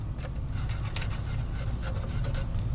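A nylon brush scrubs loose debris out of the gas system parts of a Komrad rifle, giving a steady close bristly rubbing and rasping that carries on without pause, with no voices.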